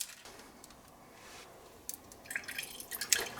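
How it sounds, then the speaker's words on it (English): Meat juices drained from a roasting pan of marinated pork loin, heard as faint, quiet dripping and liquid trickles that grow a little louder and more splashy toward the end, with no talk. "I'm draining off the juices for my medieval gravy"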